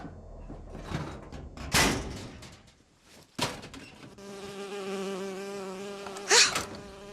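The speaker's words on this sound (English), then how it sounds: "Oh, it's a bee. I hate these things." A buzzing bee in the Bioshock Infinite video game, a steady droning hum that sets in partway through and holds, close and clear, after a few bumps and knocks, with no talk.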